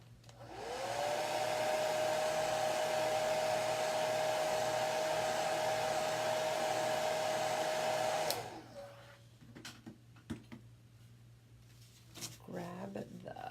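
A hair dryer, used while making a softball gift, blows with a loud, steady whir and a high whine for about eight seconds, then switches off, leaving quieter handling noises.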